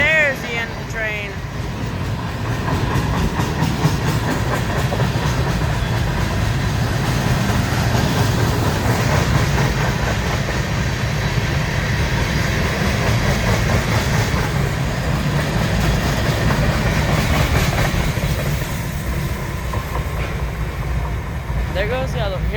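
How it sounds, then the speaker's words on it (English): Freight train cars rumbling and clattering past at close range near Wartrace, Tennessee, a steady loud roll that eases slightly toward the end of the long train. "There's the end of the train."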